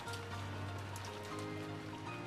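Steady rain falls in the Umineko visual novel game, a dense, even patter of drops hissing on a surface that goes on without a break.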